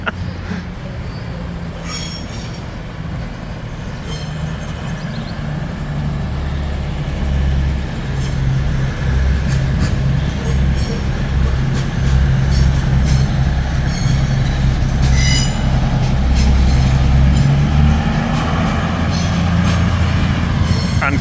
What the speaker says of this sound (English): And coming towards us now is a stampede of trains.